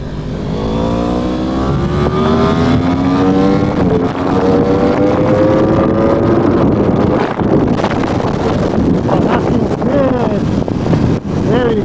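Yamaha R1M sport motorcycle revving hard and accelerating along an open road, rising engine pitch climbing through gears, loud and close with heavy wind buffeting, a voice briefly heard.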